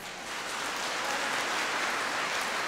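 Congregation at an evening church homily applauding loudly, a dense, steady wash of clapping filling the whole space with no talk over it.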